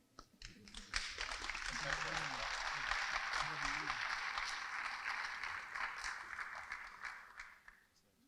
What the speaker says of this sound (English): so just keep clapping